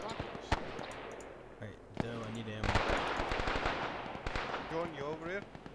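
A Bren light machine gun fires in bursts at empty bunkers in ARMA 3 during a World War II push into Germany, sharp repeated cracks with distant battle noise, while voices talk over the shooting.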